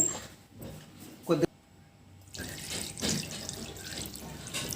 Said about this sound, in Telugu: మునిగేటట్టు మాత్రం వాటర్ పోయొద్దు, గుర్తుంచుకోండి.